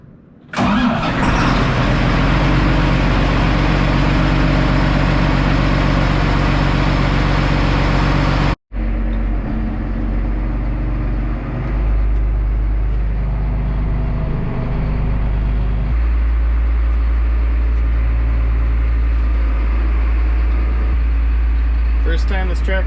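A large tractor engine cranks and roars to life, then settles into a loud, steady rumble that keeps running close by, with a brief cutout midway.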